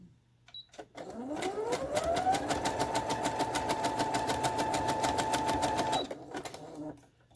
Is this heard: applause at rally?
no